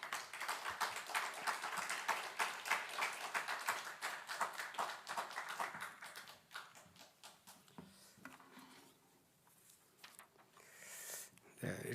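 A church worship audience claps to welcome a professor onto the stage: dense, steady clapping at first, thinning and fading toward the end, with no voices over it.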